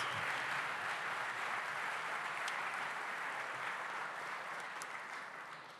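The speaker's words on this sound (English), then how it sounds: "Can we get a round of applause for Mr. Ken Nunn up here in the front?" An audience at an evening benefit event applauds in a steady, dense wash of clapping that slowly fades toward the end, with no talking.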